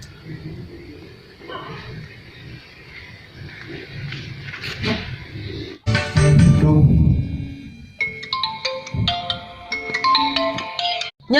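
A telephone ringtone playing as a loud, tuneful electronic melody in the second half, following an earlier stretch of people talking and mixed noise.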